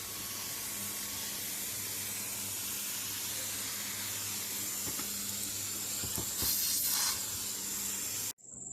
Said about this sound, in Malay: alat penyembur untuk basahkan biji benih di atas